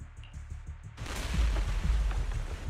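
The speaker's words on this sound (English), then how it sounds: "several explosions erupt, followed by tremors in the ground" Deep booming explosions rumble in quick succession in the video game Zenless Zone Zero, a dense, loud low roar following a sharp onset after a quieter stretch.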